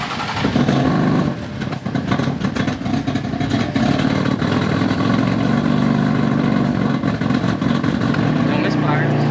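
A BMW F80 M3 engine starts and runs steadily after new coils and spark plugs, checked for a third-cylinder misfire; a loud, continuous mid-pitched engine drone with voices talking over it.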